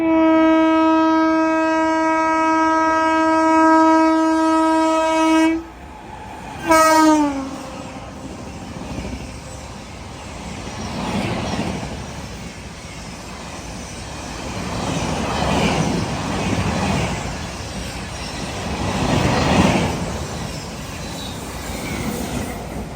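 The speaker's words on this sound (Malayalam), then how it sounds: "ഹസ്രത്ത് നിസാമുദ്ദീൻ നിന്ന് മുംബൈ CSMTയിലേക്ക് പോകുന്ന രാജധാനി എക്സ്പ്രസ് ട്രെയിൻ നമ്പർ 2222" The Rajdhani Express from Hazrat Nizamuddin to Mumbai CSMT sounds a long, loud multi-tone horn, a second brief blast, then rushes past with rising and falling rumble and clatter of wagons.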